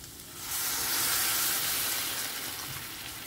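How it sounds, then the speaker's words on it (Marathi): Water pours into a hot pan of frying prawn chilli, a steady loud hiss and sizzle that swells after a quiet start and holds, fading slightly toward the end, with no talking. "आतां हांव उदक घालता हांगासर एक 1 कप"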